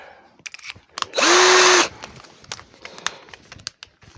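A power drill bores into hard mulberry wood during woodturning, giving one loud, steady whine of under a second that rises abruptly and cuts off, with quieter workshop clicks and knocks before and after.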